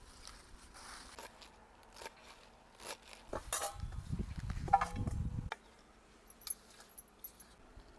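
A knife chops a mix of fresh leafy greens, dill, spinach and sorrel, for a village-style vegetable dish: scattered crisp cuts and taps, then a denser burst of rapid rustling chopping midway before settling back to occasional quiet knocks.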